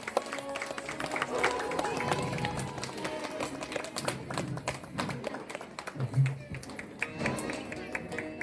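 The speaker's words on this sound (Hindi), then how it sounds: "आप सब लोग जोरदार तालियों से लगातार स्वागत करेंगे हमारे मुख्य अतिथि" A crowd at a large devotional satsang gathering claps continuously in welcome for the chief guest, a dense patter of hand claps that persists while a voice talks over it.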